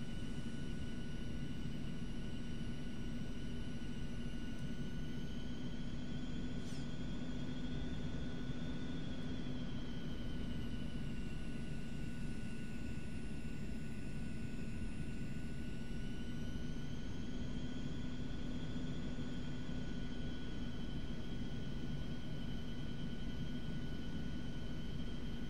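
An Eclipse 550 NG jet taxis on an airport taxiway, heard from the cockpit as a steady engine whine with high tonal hum over constant low rumble, continuous and unchanging with no talk.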